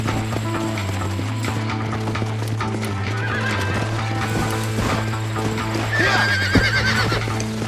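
A horse in Red Dead Redemption neighs and whinnies while its hooves clip-clop steadily, close and loud, over a continuous low game hum and faint mechanical ratcheting.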